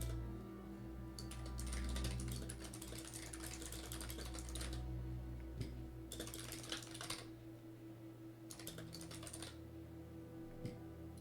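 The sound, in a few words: fast typing on a keyboard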